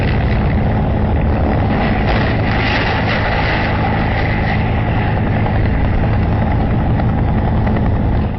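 A loud, steady helicopter roar, attempting to land in a field in Kotang, Nepal, with a dense rotor and engine drone that continues without a break.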